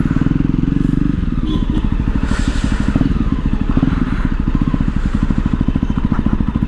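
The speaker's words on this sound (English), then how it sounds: "I must say the exhaust notes, it's brilliant, brilliant, brilliant." A Jawa Perak motorcycle's exhaust thumps in a steady, fast, loud single-cylinder beat during a test ride, with wind roar mixed in throughout.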